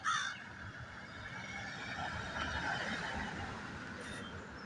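Crows cawing outdoors, one sharp call at the start and another brief one near the end, over a steady wash of distant traffic or rail rumble.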